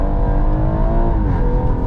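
A tuned 450 bhp BMW M140i revs hard as it accelerates, with a loud, close engine note rising and falling in pitch under load for a brief burst.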